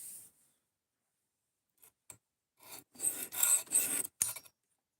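A knife is sharpened on a Gen Knives Rhino sharpening kit: after a quiet stretch come a few light scrapes and then several close, loud rasping strokes in quick succession.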